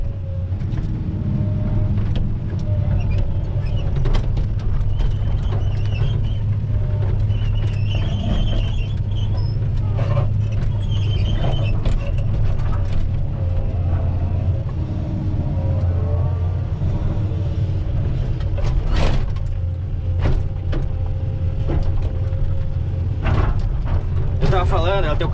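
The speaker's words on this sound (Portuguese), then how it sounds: "Essa escavadeira aqui, ela tem o carro curto, né?" A Komatsu PC-200 hydraulic excavator with a short undercarriage and a large, heavy bucket works slowly, its engine a steady low rumble throughout with occasional squeaks and clanks from the machinery, while someone talks over it.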